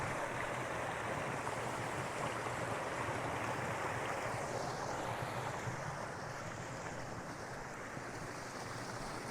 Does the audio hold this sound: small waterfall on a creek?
yes